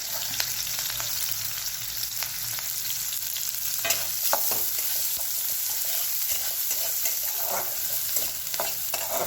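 Green chilli and finely chopped onion sautéing in a hot pan, a steady loud sizzle with scraping stirs and occasional sharper crackles, continuous and close with no speech.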